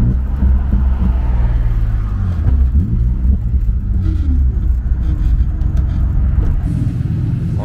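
Interior rumble of a modified E36 BMW being driven, a steady loud low engine and road drone filling the whole stretch with no talk over it.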